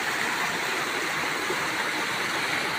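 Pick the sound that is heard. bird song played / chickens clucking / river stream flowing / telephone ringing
river stream flowing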